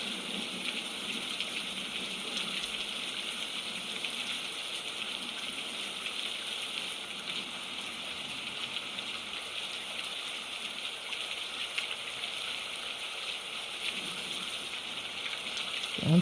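Steady heavy rain on a very rainy day, a continuous hiss of drops splattering on the ground and nearby surfaces, including the top of a tent-like fort, with no voices.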